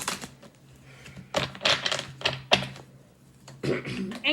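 Tarot cards shuffled by hand in a reading: several short, crisp riffling bursts at an uneven pace, close and fairly clear, separated by brief quiet gaps.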